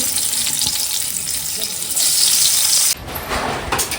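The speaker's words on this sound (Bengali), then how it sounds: "এখন বললো আবার বেগুন ভাজা করতে তো এই যে একেবারে ভাজা করছি" Eggplant slices fry in a pan with a loud, continuous, close-up hiss that drops suddenly partway through and then carries on more softly.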